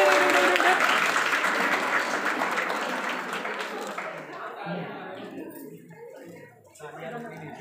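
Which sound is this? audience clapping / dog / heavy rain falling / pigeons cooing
audience clapping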